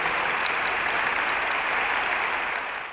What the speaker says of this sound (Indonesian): ya tepuk tangan yang kencang